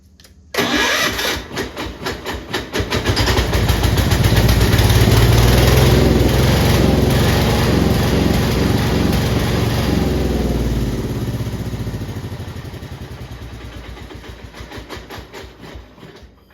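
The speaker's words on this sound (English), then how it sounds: "So let's start the engine." A Gravely 812 garden tractor engine cranks, catches and settles into a steady running drone that gradually eases down before cutting off.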